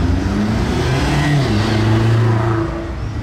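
A BMW X5M engine revs while warming up, a loud close low rumble that climbs and wavers in pitch without letting up, heard on the street during the Monaco Grand Prix.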